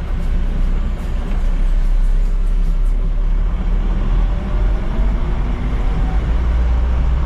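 A car speeding past on a winding hill road, its engine and road noise a steady, loud broadband rumble throughout with no pause, as if heard from inside another vehicle.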